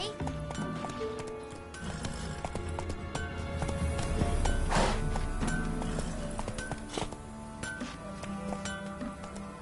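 Roach, a horse in The Witcher 3, gallops with rapid rhythmic hoof clip-clops, joined by a brief whinny midway, with talk over the hooves.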